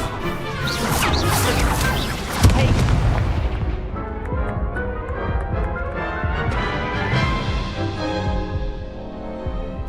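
Incendio fire spell cast in a Hogwarts Legacy duel, a loud crashing burst of magical impacts and whooshes layered with game music and voices, with one sharp hit partway through.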